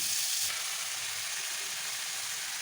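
A spoonful of ginger and green chili paste fries in a pan, giving a dense, even hiss that flares loudest at the start and then holds steady, with no talking.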